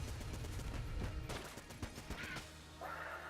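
Gunfire bursts from a gun in the video game Enter the Gungeon, sharp rapid cracks and thumps layered over game noise, with a few distinct louder shots and a rising synthetic tone near the end.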